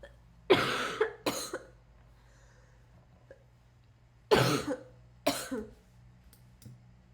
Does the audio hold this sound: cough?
yes